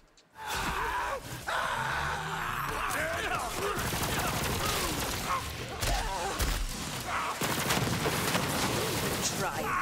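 Shock weapon gunfire in Borderlands 3, heavy and continuous rapid shooting with crackling bursts that fill almost the whole stretch, mixed with game effects and a voice underneath.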